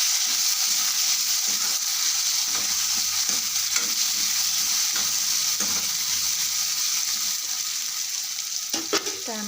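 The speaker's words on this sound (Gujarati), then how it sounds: "હવે ટામેટાં એડ કરીશું. મિક્સ કરીશું ટામેટાને." Tomatoes fry in a pan while being stirred. A close, steady sizzle runs under repeated scraping strokes, and a few sharper clatters of the utensil come near the end.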